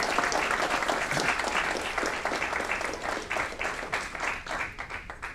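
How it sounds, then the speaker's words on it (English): A crowd at a city council meeting in Aurora claps steadily in sustained, even applause that gradually thins toward the end. "Let's give her a round of applause."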